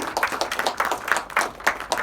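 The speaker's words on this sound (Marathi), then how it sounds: "प्रथमेश परबसाठी जोरदार टाळ्या" Audience clapping at a Marathi film event welcoming actor Prathamesh Parab, scattered hand claps at a steady moderate level with a few sharper single claps standing out.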